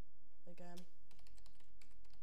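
A password typed on a computer keyboard, a quick run of close keystroke clicks following a short bit of speech.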